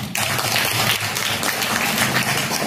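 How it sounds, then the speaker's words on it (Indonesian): A classroom of children claps together in a dense, steady burst of applause that starts abruptly and continues loud and close throughout. "tepuk tangan anak-anak."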